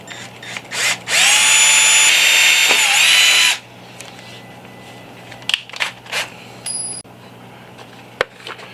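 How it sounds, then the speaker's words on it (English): A small power drill whines at high speed for about two seconds while drilling a pilot hole with a 1/8-inch double-sided bit, then stops, followed by scattered light clicks and clinks of tools being handled. "I use these little 1/8 double-sided drill bits"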